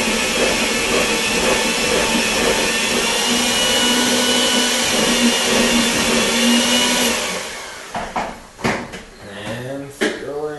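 A Derby pie filling being mixed, probably with an electric mixer: a loud, steady broadband whir runs unbroken for about seven seconds, then stops, followed by a few clattering knocks and a voice speaking.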